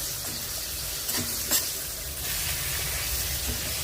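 Mango pieces coated in turmeric and salt go into a hot pan for pickle, giving a steady close sizzle with a few stirring knocks and scrapes, no talk.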